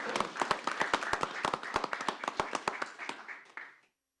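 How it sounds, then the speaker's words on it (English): Applause at a city council meeting, a small room of people clapping in quick, sharp, irregular claps that thin out and stop near the end. "Yes, a round of applause."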